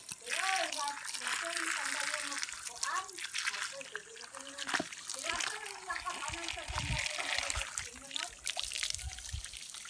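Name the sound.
water running from a faucet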